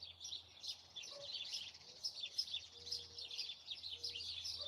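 A pet bird chirps in quick, bright repeated bursts, close and fairly soft, over a low steady indoor hum with a few faint background tones.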